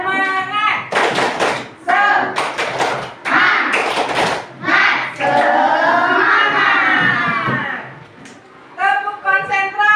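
A classroom of students performs tepuk semangat, bursts of rhythmic group clapping interleaved with loud chanted voices and a teacher's speech, close and energetic with short pauses between rounds.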